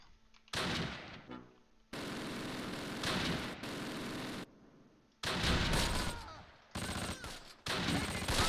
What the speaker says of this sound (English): We got shots.